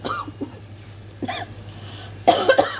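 Several sharp coughs, one after another with brief pauses, the last burst loudest, over a faint low hum.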